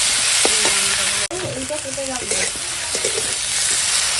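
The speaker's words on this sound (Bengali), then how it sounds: "আর নিরামিষ, এখন মশলার সঙ্গে কষাবো।" Vegetables sauté with spices in a hot pan for a vegetarian cauliflower dish, a steady loud sizzle with scraping stir strokes and a sharp clank partway through.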